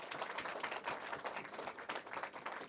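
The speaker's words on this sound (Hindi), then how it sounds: "एक बार जोरदार तालियां बजाइए" Audience applause at a Hindi kavi sammelan poetry recital, a dense, steady wash of many hands clapping at once, loud and continuous without pauses, with no voice over it.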